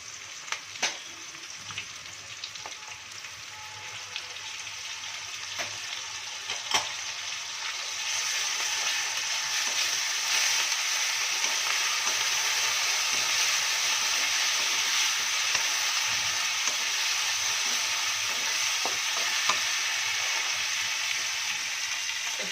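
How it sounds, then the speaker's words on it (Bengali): Chopped onion fries in a pan with a continuous close sizzle that swells noticeably louder partway through and then holds steady, broken by a few light clinks of a utensil. "পেঁয়াজটাকে একটু ভালো করে ভেজে নেব"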